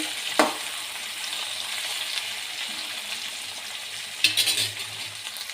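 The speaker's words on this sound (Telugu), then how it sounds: "ఆయిల్లో వేసుకోవాలి ఒకసారి కలుపుకోవాలండి" Sliced bitter gourd, coated in salt and flour, sizzles steadily in hot oil, with a utensil scraping and stirring the pan once near the start and again toward the end.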